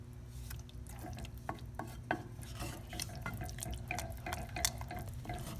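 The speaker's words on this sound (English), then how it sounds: "Keep stirring or mixing until the sauce will become thick." Boiled macaroni being stirred into melted cheese sauce in a pan, with soft wet squelches and scattered utensil clicks against the pan over a low steady background hum.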